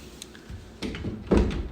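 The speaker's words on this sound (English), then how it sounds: "Door open, close, very" A door opened and shut during a walk-through of a house under inspection, giving two or three close knocks and thuds with no talk over them.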